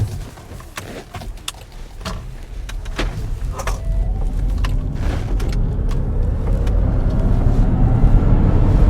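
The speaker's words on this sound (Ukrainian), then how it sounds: "Але шум мотора, коли натискаєш, відчутний." The electric motor whine of an e-Jaguar climbs steadily in pitch as the car accelerates, over a low road rumble with scattered clicks and knocks.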